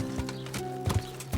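Horse hooves clip-clop in the medieval video game Kingdom Come: Deliverance, a brisk run of close, clear hoofbeats in quick irregular rhythm with a brief snort-like tone underneath.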